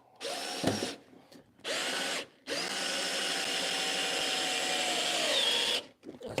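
A power drill drives screws into a wooden staircase, with two short whirring bursts followed by one long steady run, close and loud with brief quiet gaps between.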